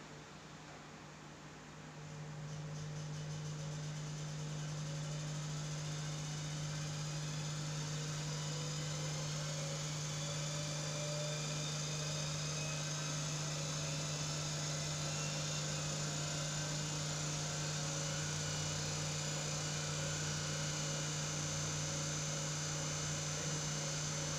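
Prime mover motor driving a permanent magnet DC generator at 1800 RPM, running on about 119 volts input during an electrical machines lab test: a steady, continuous hum and whine that starts just after the opening and holds level throughout, with no talking.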